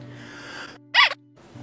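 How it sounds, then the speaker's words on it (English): One short, sharp sneeze bursts out close by, loud and breathy, set between quieter stretches of low background murmur. "That was a sneeze and a half."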